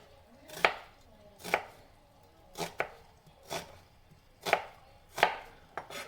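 A knife chops through a vegetable on a cutting board, near and distinct, with seven crisp cuts spaced irregularly about a second apart and no voice over them.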